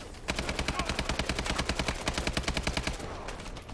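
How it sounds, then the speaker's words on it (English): Automatic gunfire from Call of Duty: Advanced Warfare rattles in a fast, steady, evenly spaced stream of loud shots for several seconds before tapering off. "I love the gun sounds on this."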